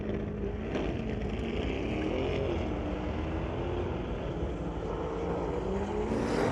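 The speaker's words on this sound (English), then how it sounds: "BMW fully staged, Ross Walker bumping that Corvette forward" A Corvette drag car creeping forward into the staging beams at a street-legal drag night, its engine a steady loud rumble beside another idling car, with no pause throughout.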